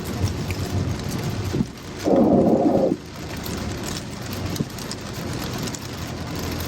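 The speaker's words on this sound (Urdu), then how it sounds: "یہاں پہ بارش تیز ہے" Heavy rain falls in Madina, a steady hiss of rain with a louder rumbling burst in the middle that sounds like thunder, then the rain carries on.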